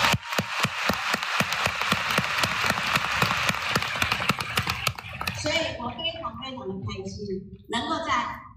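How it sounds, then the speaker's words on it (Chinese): An audience at an Amway leadership training session in Taipei's World Trade Center breaks into loud, rapid clapping for about five seconds, then the applause fades as a voice speaks over the hall. "给自己一个掌声"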